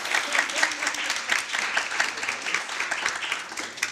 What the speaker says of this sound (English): you can absolutely clap